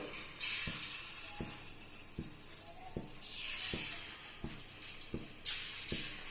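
Marinated chicken pieces fry in hot oil on a medium flame for hotel-style chicken fried rice, giving a steady broadband sizzle with bursts of hiss and regular soft knocks of stirring or pieces dropping into the pan.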